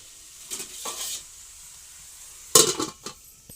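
Spice masala for meat is stirred and fried in a pan: a soft sizzle runs throughout, broken by a couple of scraping stirs early on and a louder clattering scrape of the spoon against the pan near the end, with no talk.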